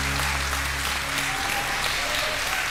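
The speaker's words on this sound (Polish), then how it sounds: "Dostałaś duże brawa." Studio audience claps steadily throughout a Polish television game show segment, a dense wash of applause that sits over a low hum fading early on.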